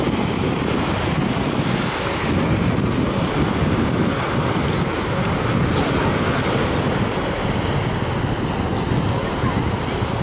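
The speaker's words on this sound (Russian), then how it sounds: "Кажется, что волны здесь были всегда уже." Sea waves wash onto the beach at Alanya in the evening, a loud continuous roar of surf mixed with heavy wind buffeting on the microphone and no clear breaks.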